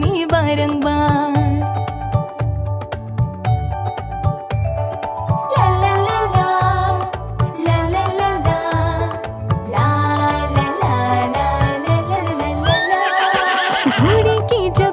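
A horse whinnies over a busy, loud musical backing with steady rhythmic hoofbeat-like clip-clop running throughout, part of a Hindi nursery rhyme about a galloping horse.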